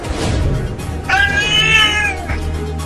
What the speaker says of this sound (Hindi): बड़े ही बदमाश बिल्ली है।